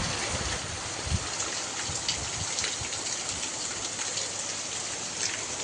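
The first monsoon drizzle in Konkan falls as a steady, even hiss of rain on surfaces that carries on without a break from start to finish.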